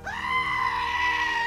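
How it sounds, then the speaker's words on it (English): A goat in the Skyrim VR video game lets out a loud, sustained scream-like bleat lasting over a second, close and steady with a strong tonal wail and no talking over it. "Why are you screaming? What up, goat?"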